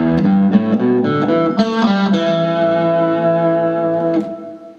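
A distorted electric guitar runs through a quicker rock lick, several notes picked in fast succession before settling on a held note wavering with vibrato that rings out and fades, up close and without speech.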